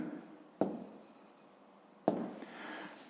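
A pen writes by hand during a fifth-grade math exercise, giving two short, close scratching strokes a second and a half apart in an otherwise quiet room.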